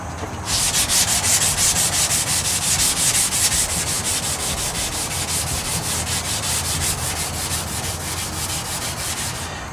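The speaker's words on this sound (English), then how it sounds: "everything else on the bumper will get painted or get sanded with 400" Sanding on a cracked plastic car bumper, likely with 400-grit paper, a steady close scratchy rasp of strokes that runs continuously and loudly for the whole stretch with no talking.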